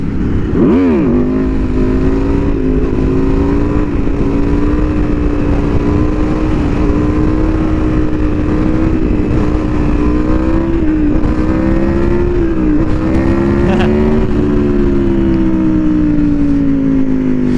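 An Aprilia Tuono V4R motorcycle engine drones steadily close by, its pitch rising and falling as it is ridden, with a brief surge of revs near the start and another toward the end.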